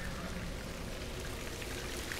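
Water pours like a shower in a scene from The Last of Us, a steady, dense hiss of spray that runs unbroken throughout.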